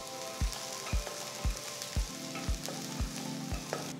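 Plenty of garlic sizzling in hot oil in a wok for honey garlic cauliflower, a steady crackling fry with a soft regular thump about twice per second underneath.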